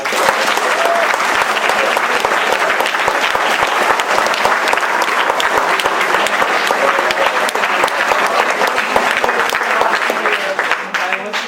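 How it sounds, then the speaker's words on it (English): Loud, sustained applause from a large crowd for a school senior class fills the whole stretch, dense steady clapping without pause. "Give them a round of applause."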